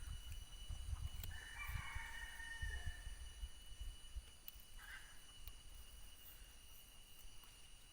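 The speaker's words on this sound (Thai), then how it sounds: "ก็อาจจะได้ยินเสียงเอฟเฟกไก่นะครับผม อันนี้ไม่ได้ใส่นะครับ เป็นไก่ธรรมชาติจริงๆนะครับผมที่ผมเลี้ยงไว้นะครับ" Real farm chickens crowing near a durian orchard: two faint, distant crowing calls, one longer and one brief, over a low rumble and a constant high insect hum.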